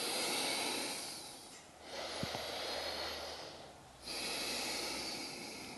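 Slow, deep breathing during yoga sun salutations, with long airy inhales and exhales through the nose, close and breathy over a quiet room, with a brief pause between breaths.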